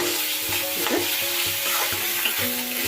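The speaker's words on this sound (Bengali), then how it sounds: "ভাজা ভাজা করছি কষে নেব খুব ভালো করে" Ginger and garlic masala fries in oil in a pan, a constant near sizzle broken by rhythmic stirring scrapes.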